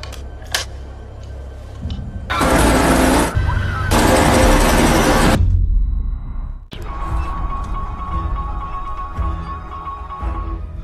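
In a film depicting the terrorist attack on a Mumbai hotel, two long, loud bursts of rapid gunfire crackle one after the other, followed by quieter rumbling noise.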